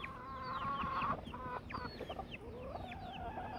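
A mother hen clucks and chatters repeatedly while calling her chicks to food, in a quick, uneven series, with some louder calls among softer ones, close and fairly clear.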